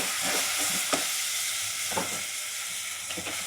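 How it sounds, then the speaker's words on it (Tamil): Ripe tomatoes and spices sauté in hot oil for a Jaffna-style fried fish curry, a steady close sizzle with spoon scrapes and stirring knocks recurring every second or so, no voices. "இப்போ நாங்கள் எல்லாத்தையும் சேர்த்து வதக்குவோம்"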